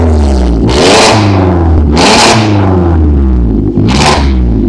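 A modified Volkswagen Polo with an aftermarket exhaust and header revs hard three times, each rise to a loud snarl falling back to a deep rumbling idle, close and alone.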